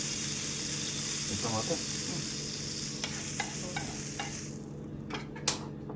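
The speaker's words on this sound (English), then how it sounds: "Preheat just to make sure that it's ready, and then I'm adding some butter to it." Butter melts and sizzles in a preheated pan for pancakes, a steady close frying hiss with a few clicks and scrapes toward the end, and a voice speaking briefly over it.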